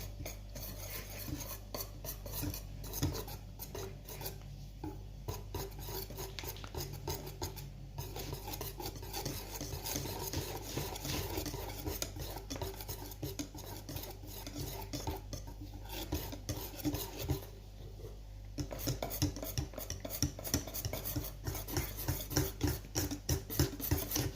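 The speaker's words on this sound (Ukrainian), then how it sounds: "ще раз все перемішуємо вінчиком." A whisk beats pancake batter made with water in a bowl, making quiet, rapid, rhythmic scraping and clinking strokes that continue steadily throughout.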